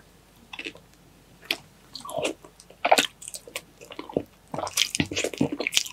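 Someone bites and chews balut dressed with vinegar, close-up wet squishy bites and chewing clicks in irregular bursts, alone with no talk.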